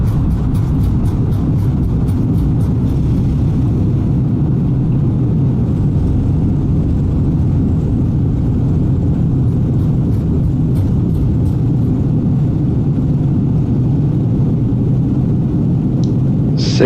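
An Airbus A320neo in flight-simulator form roars under steady reverse thrust on the runway after touchdown at George Bush Intercontinental, a continuous loud low rumble with faint clicks on top.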